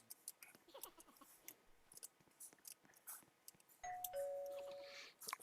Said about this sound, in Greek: Τυπάμε το κουδούνι.